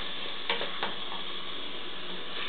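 Kimchi jjigae with garlic and sea salt is stirred in a pot, heard as a steady bubbling sizzle with a few soft scrapes of the utensil early on.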